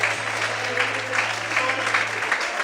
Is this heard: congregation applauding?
yes